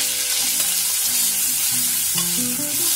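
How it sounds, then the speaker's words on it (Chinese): Shredded pork frying in warm oil, a steady bright sizzle with clinks and scrapes of stirring scattered through, close and loud, without speech. "油温温的，肉丝先下"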